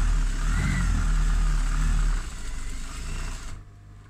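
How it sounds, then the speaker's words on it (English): A sewing machine hums steadily as it stitches straight across a fabric project bag, runs for about two seconds, then eases to a lighter whir and stops. "So I'm just going to stitch all the way across."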